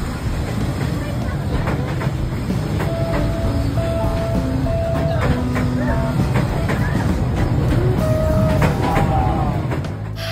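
A train rumbles past steadily along a narrow residential street in Hanoi, with brief high wheel squeals and clicking rail noise over a constant loud, broadband roar.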